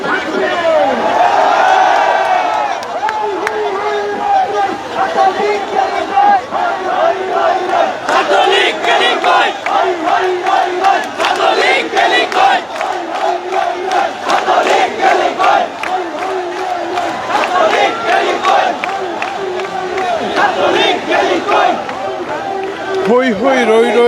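A large crowd at a protest march chants rhythmic slogans in unison, loud and close, with repeated shouted phrases and bursts of cheering throughout.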